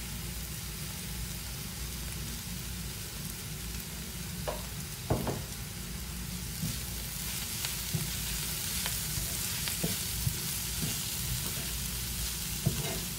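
Puttu mix being sautéed and stirred in a pan: a continuous broad sizzling hiss with intermittent scraping taps of a spoon, moderately faint and steady throughout.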